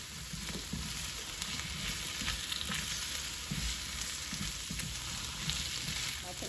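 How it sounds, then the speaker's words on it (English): Potato pieces fry in oil with a continuous, even crackling sizzle at low to moderate volume, occasionally stirred, with no voices over it. "I like to add in my potato first so you can fry a little bit with the oil"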